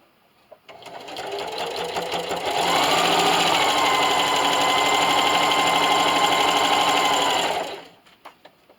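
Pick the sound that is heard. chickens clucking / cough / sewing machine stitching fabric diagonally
sewing machine stitching fabric diagonally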